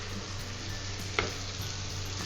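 Marinated mutton frying in a pot for a traditional pulao gives a soft, steady sizzle, with one brief metallic clink partway through and no voices.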